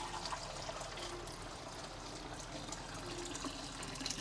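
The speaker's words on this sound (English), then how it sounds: "my sink is like overrunning right now" A kitchen sink overruns with water, a steady soft rush and trickle of running liquid heard at low level and continuing throughout without speech.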